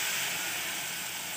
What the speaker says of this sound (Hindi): खोलता हुआ हमने पानी डालना है।